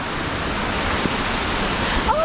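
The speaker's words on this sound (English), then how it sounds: "There's another waterfall here." A waterfall roars steadily in a flooded forest on the Mount Roraima trail, a loud, unbroken broadband rush of falling water close by, with a brief high squeak near the end.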